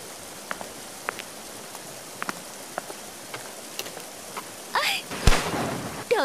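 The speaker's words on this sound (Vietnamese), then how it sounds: "Trời ơi, lại còn mưa nữa." Cartoon rain falls steadily with scattered drip-like taps, then a thunder crash rumbles loudly near the end of a short stormy passage.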